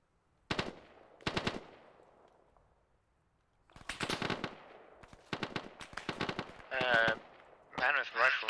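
Rifle shots crack out during an army section training exercise: two sharp bursts early, then a pause, followed by a dense string of rapid, loud shots with shouted voices over the final bursts.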